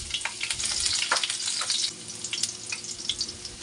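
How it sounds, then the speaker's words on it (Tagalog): Garlic sautéing in hot oil for squid adobo, a close, continuous crackling sizzle with bubbling pops throughout, no speech. "At pag mainit na, igisa na natin yung bawang"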